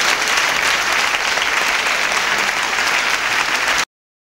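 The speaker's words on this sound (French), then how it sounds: "Il faut toujours applaudir les patrons au début d'une émission." Studio audience applause at the start of a 1980s French television show, a dense, loud, even roar of clapping that continues steadily, then cuts off abruptly.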